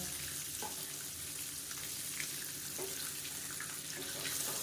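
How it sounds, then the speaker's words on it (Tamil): Boiled eggs roasting in masala for an egg curry, giving a steady, dense sizzle and frying hiss that runs unbroken throughout, with a few faint stirring knocks. "இது நல்லா அப்படியே ரோஸ்ட் ஆகட்டும்"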